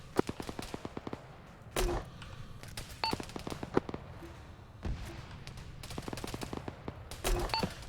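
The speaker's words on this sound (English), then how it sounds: "I'm shooting some grenades at him." Grenade launcher fire in the military shooter Arma 3: a string of sharp gunshot-like cracks and thumps, some in rapid bursts, with a few louder booms standing out over a steady background of distant battle noise.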